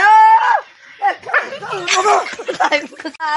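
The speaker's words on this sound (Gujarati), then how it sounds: "આ તો કૂતરું હતું" A dog whines and yips, high-pitched and close, mixed with bursts of voices talking over it.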